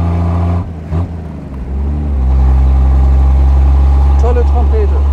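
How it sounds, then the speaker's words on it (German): A 1934 Lagonda M45 T7 Tourer, a powerful pre-war touring car, runs loud and close, its engine settling into a steady deep drone after a brief rev. "Toller Motor, hat auch schön Dampf."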